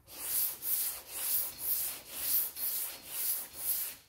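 Rhythmic strokes of a sanding block over PPG CRE321 high-build epoxy primer on a Cadillac Coupe Deville body panel, eight steady back-and-forth rasping passes close up, with no talking.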